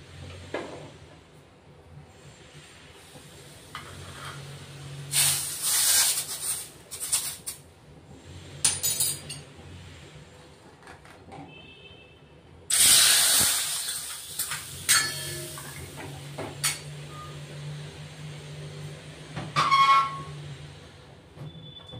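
Red chilli powder tadka for dal hitting hot oil gives sharp bursts of sizzling hiss, with quieter stretches and a few small utensil clinks between them.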